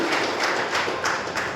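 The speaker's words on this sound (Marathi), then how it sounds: "एकदा जोरदार टाळ्या त्यांच्यासाठी झाल्या पाहिजे" An audience at a public gathering applauds, a dense, even patter of many hands clapping that fills the whole short moment.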